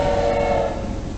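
A Thomas the Tank Engine style train whistle blares in a video game, a loud, sustained tonal hoot that holds steady over a rumbling background.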